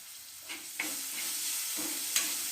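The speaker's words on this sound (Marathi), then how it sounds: "तेल टाकलं आहे, कांदा टाकूया, टोमॅटो टाकून" Onion and tomato sizzle and fry in hot oil for a Maharashtrian walachi usal, giving a steady soft hiss with a few brief stirring scrapes, heard close and alone without any talk.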